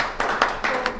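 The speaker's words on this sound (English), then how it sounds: "Can we get a round of applause for Sue and Selena?" A few sharp hand claps from a small group in a classroom crash course, about four distinct claps within a second, close and fairly loud.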